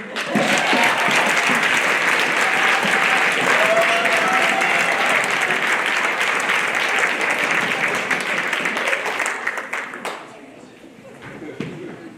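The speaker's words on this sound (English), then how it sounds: "a round of applause for Act 1 of 2" An audience at a TED Ed night fills the hall with sustained loud applause, dense clapping that holds for about ten seconds before thinning out and fading into scattered claps.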